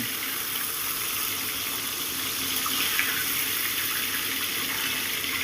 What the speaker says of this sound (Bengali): মাথাগুলোকে একটু লাল করে আমি ভেজে নিচ্ছি